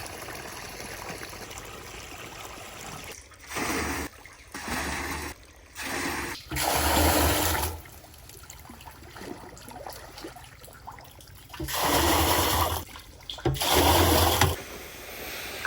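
Water gushes in repeated short bursts into a drum for mixing fertilizer on a village farm, loud pours alternating with quieter gaps and trickles.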